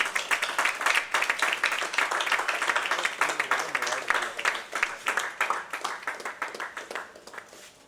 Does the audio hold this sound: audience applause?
yes